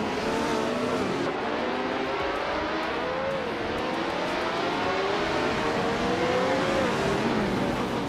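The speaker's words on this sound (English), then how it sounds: "the race is kicking off at Magione with Amy leading the pack in a 1967 Eagle Mark 1T1G" Race cars in a racing video game at the start of a race at Magione, including a 1967 Eagle Mark 1T1G, a loud continuous engine roar with rising and falling revs from a dense pack of cars.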